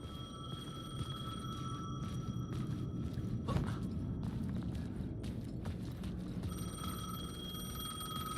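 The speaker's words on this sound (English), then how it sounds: "The payphone's ringing." A payphone rings in the video game Alan Wake 2: electronic ring bursts open the passage and return near the end, over dark, low game ambience and faint footsteps.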